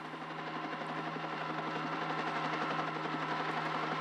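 A helicopter drones steadily with a continuous rotor thrum and engine hum over a cave site on a high plateau, holding at a constant moderate level with no voices.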